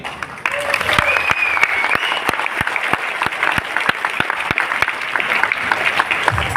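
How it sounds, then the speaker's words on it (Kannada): An audience claps through a celebration event, a steady, dense round of applause from a crowd, with a voice speaking over it near the start. "ಈ ಚಪ್ಪಾಳೆ ನಿಮಗೋಸ್ಕರ ಚಪ್ಪಾಳೆ ಕೊಡಬೇಕಲ್ವಾ?"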